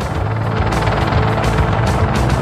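An Apache attack helicopter flies past with a loud, steady rotor drone and rhythmic blade chop over a dense engine roar, continuous and close throughout.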